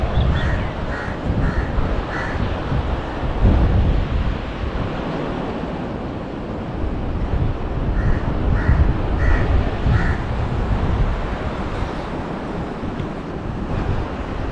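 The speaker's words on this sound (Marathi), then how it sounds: "हा जो सतत येणारा तो समुद्राचा आवाज तो खूप छान वाटतोय" Sea surf rolls continuously at a beach resort in Ganpatipule, Ratnagiri, a loud steady wash of waves with wind, while crows caw repeatedly in short bursts over it.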